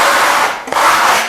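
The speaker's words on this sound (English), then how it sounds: "I'm just going to take a steel trowel and use it as if I'm going to be sanding" A steel trowel is rubbed over a sandstone plaster wall surface in two long, close, gritty scraping strokes, separated by a brief pause and a light knock.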